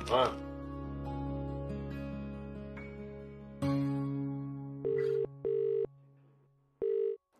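Telephone call placed at home: after a soft musical bed, a series of distinct electronic ringing tones pulses several times at a steady rhythm, clear and moderately loud.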